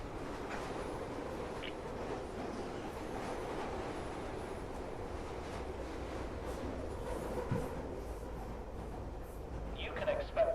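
Rumbling carriage noise of a train running in Fallout London, a steady low rolling drone with faint rattles, continuing throughout.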